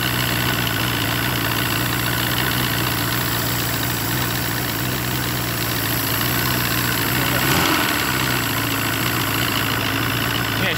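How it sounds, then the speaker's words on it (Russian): A 1999 Force 120 outboard motor on a Bayliner boat idles steadily and a little fast, a loud continuous hum with low droning harmonics, close by, with a brief low thump near the end and no talking. "Обороты холостые великоваты."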